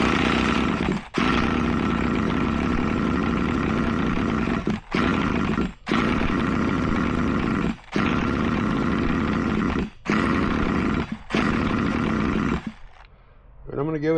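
A 2004 HPI Savage 25 nitro RC truck engine runs loud and close, a steady buzzing roar broken by several brief cuts and dips before it dies away near the end.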